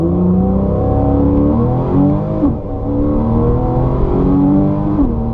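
A race car powers out of a corner on the Laguna Seca track, engine note holding steady and climbing under throttle, a brief dip and lift in revs midway, loud and close with no talking.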